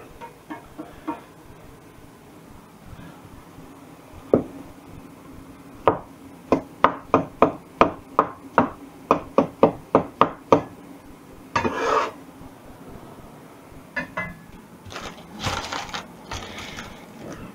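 Knife chopping an onion on a cutting board while making spaghetti bolognese: a quick run of about a dozen sharp, evenly spaced chops mid-clip, with scattered single cuts and scraping before and after, close and clear.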